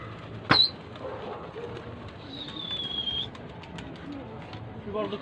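Pigeons on a rooftop loft give soft cooing calls, with a sharp short call near the start and a drawn-out call in the middle, over quiet outdoor background noise.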